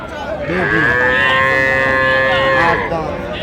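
A cow with her calf at a rural cattle market lows once in a long, loud, drawn-out moo close by, with faint market chatter around it.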